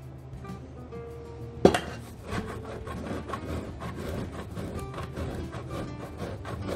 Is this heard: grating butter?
yes